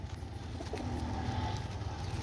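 A pair of Prince Kamagar pigeons, with one soft, low coo rising over a quiet background near the middle of the moment.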